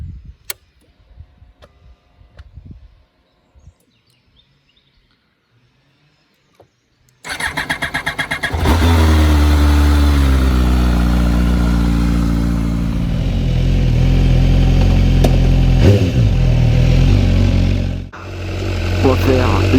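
An MV Agusta motorcycle engine cranks and fires up after several seconds of quiet, then idles loudly and revs, steady and close, with a brief dip near the end.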